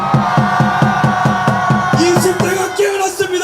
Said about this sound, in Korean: 10대 있다면 전방을 향해 함성!